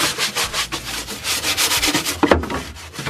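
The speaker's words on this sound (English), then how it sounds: "I'm just gonna go through and scrub all the really bad areas." Stiff brush scrubbing grime off dirty surfaces, a steady back-and-forth rasping in quick repeated strokes, close and fairly loud with one brief knock near the end.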